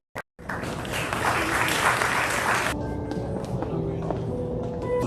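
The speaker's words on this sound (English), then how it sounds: "Your applause" Audience applause at a college honors convocation, a dense steady clapping that rises after a brief opening tap, holds strong for a few seconds, then thins to a lighter scattered patter under faint background voices.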